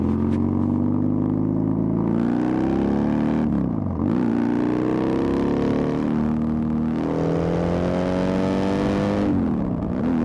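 A BMW R1100GS motorcycle fitted with a performance chip, heard on the ride as a loud, steady engine drone whose pitch climbs through the gears, with dips at each shift and no talk.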